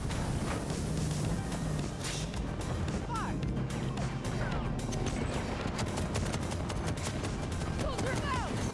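Heavy vehicle-mounted guns fire in Battlefield 2042, a dense, loud, continuous barrage of blasts and crashes with no pauses, close and harsh throughout.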